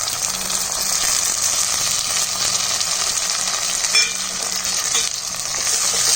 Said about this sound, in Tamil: இந்த மாதிரி வெங்காயமும் பச்சை மிளகாவும் நல்லா கோல்டு நிறத்தில் ஆகணுங்க.